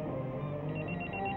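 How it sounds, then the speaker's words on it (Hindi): A telephone rings in a brief burst, a faint electronic tone over a low murmur of background sound. "फोन बज रहा है।"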